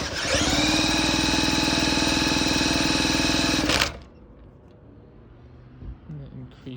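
A British Seagull Silver Century Plus outboard engine runs loud and close with a fast, steady buzzing putter for several seconds, then cuts out abruptly, leaving quiet room noise and faint movement.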